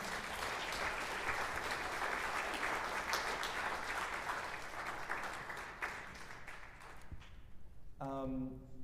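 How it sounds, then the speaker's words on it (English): An audience at a piano illusion performance gives a warm round of applause, dense clapping sustained for several seconds before tapering off, followed by a voice speaking at the end. "Let's give her a warm round of applause."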